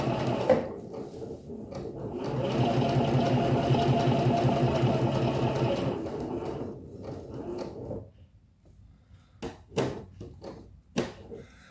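A sewing machine topstitches a quilt in a steady, close, whirring run for several seconds, then stops, followed by a few short clicks and handling knocks.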